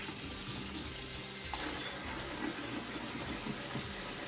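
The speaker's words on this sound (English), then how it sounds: "always put a little bit of cold water on top so it stops the cooking process" Cold tap water poured over freshly cooked spaghetti in a sink, a steady, continuous splashing rush that carries at the same level from start to finish.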